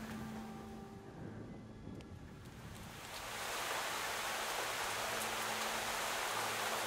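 Rain falls in the video game Fall of Porcupine, a soft patter at first that thickens after a few seconds into a dense, steady wash of hiss, no voices.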